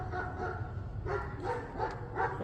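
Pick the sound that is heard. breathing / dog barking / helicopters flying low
dog barking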